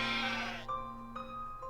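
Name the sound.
goats bleating in Professor Layton vs. Phoenix Wright video game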